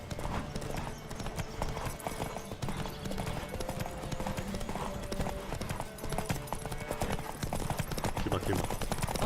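Rapid hoofbeats of a galloping horse in The Witcher 3: Wild Hunt, continuous and driving, layered over music and background effects.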